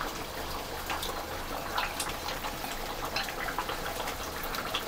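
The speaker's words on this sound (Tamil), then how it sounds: "எறா போட்டு கொதிக்க விட்டுடலாம்." Prawn gravy simmers in a pan, giving a steady bubbling and sizzling hiss with small pops throughout, close and moderately quiet, with no voices.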